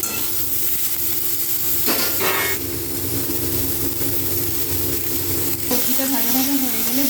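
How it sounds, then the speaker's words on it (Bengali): Vegetables for Bengali sukto frying in a pan, a steady close sizzle and hiss running throughout with stirring scrapes, a brief louder burst near the two-second mark and a wavering tone rising near the end. "ভালো করে সবজিটা ভেজে নেব।"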